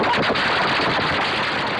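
Syrian security forces fire on residents in news footage, a dense continuous crackle of automatic gunfire, loud and harsh, filling the short stretch without pause.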